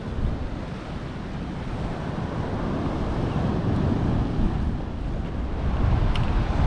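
Wind buffets the microphone beside waves surging against Brixham Breakwater in South Devon, a steady, loud roar of surf and gusts throughout with no voices.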